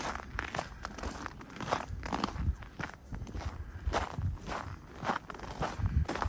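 Boots crunch steadily on icy snow on a cold February walk around a lake in Regina, with the rhythmic footfalls close and fairly quiet under a constant hiss of wind.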